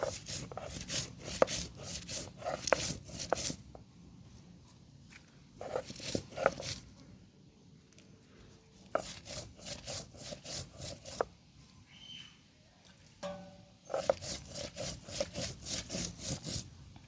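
Chili paste is ground by hand on a grinding stone, heard as rapid rhythmic bursts of rough scraping strokes separated by short pauses, close and prominent.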